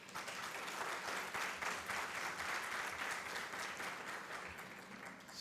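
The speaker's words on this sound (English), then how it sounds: "So a huge round of applause to all of you." A convocation audience gives a dense, steady round of applause at a mental health school's first graduation ceremony. The clapping stays loud and even throughout, with no voices above it.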